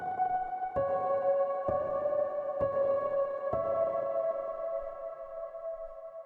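Reverb-drenched lo-fi melody layer built in FL Studio with bright EQ, several plucked tonal notes struck in an even rhythm, each ringing out in long sustained washes that blend together and slowly fade.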